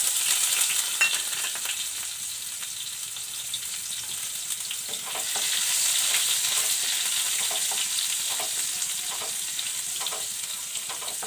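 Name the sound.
chopped garlic frying with cumin and dried chillies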